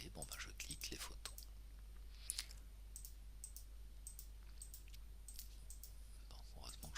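Mouse clicks selecting photos on a computer: sharp, quiet clicks in irregular bursts over a faint low hum, some in quick runs, with soft background noise and no talk.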